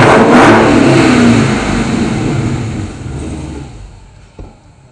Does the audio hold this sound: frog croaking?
no